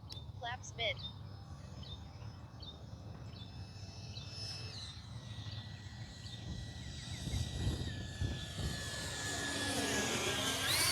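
A Freewing F-22 Raptor 70mm EDF radio-controlled jet flies past on its maiden flight. Its steady whining turbine hiss swells and gets louder toward the end, with wind noise underneath.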